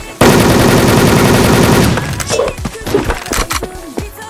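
Automatic gunfire in the online shooter game Wolfteam: a loud, rapid burst of machine-gun fire lasting about two seconds, then scattered thuds and clatter as the shooting stops.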